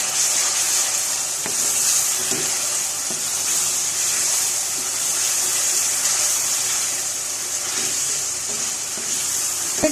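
Pumpkin and chicken fry in a pan with a chili paste, giving a steady bright sizzle, loud and close, with occasional stirring scrapes and no talking.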